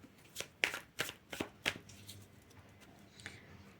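A deck of cards shuffled by hand, several quick crisp riffles and snaps in close succession, then fading to a quieter rustle, near and soft in a quiet room.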